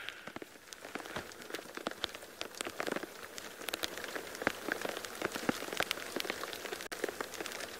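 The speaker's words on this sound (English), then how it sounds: "This rain is no good." Light rain pattering on the ground during an outdoor wildlife safari, a soft, steady patter of scattered drops with no voices.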